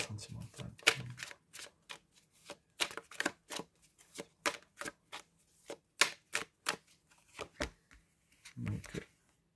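Tarot cards being shuffled and drawn for a reading, a run of crisp riffling flicks and slaps in quick bursts, close and moderately loud, with a short low thud near the end.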